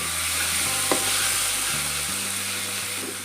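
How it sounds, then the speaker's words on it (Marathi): Ginger garlic paste sautéing in hot oil for misal, a steady close sizzle with soft stirring scrapes and a brief clink of the spoon, no talking. "आता आपल्याला घालायचं आहे एक टेबलस्पून आलं लसूण पेस्ट याची छान परतून घ्यायचे"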